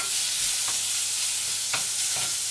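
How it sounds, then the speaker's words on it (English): Meat frying in a pan with a constant loud hiss and sizzle, broken by a few soft clicks and scrapes of stirring, no speech. "Our meat, get that cooking."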